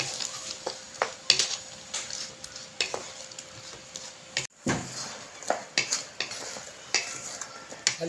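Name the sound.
stirring saba bananas cooking in coconut milk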